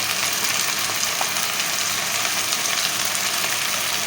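Onion paste with turmeric and chili powder sizzles steadily in hot oil, a dense, even crackle that runs the whole time with no talking.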